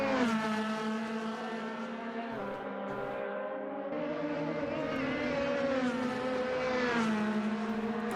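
McLaren team race cars pass on track during a preseason test at Highlands Motorsport Park, giving a steady, high engine whine with rising and falling pitch across eight seconds, moderately loud and without talk.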